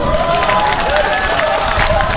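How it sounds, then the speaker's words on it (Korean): Audience at a regional folk-song contest in Daegu claps and cheers in a dense, steady wash of applause, with a voice speaking over it from a loudspeaker. "좀더 큰 박수로 성원해 주시기 바랍니다"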